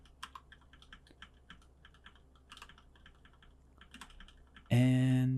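Computer keyboard arrow keys pressed repeatedly in short irregular taps while nudging a motion tracker in compositing software, close and fairly quiet, ending in a louder sustained tone.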